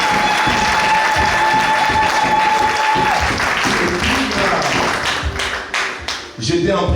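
A crowd claps loudly and steadily at an outdoor political rally, dense applause throughout with a brief tone early on and a voice breaking in near the end.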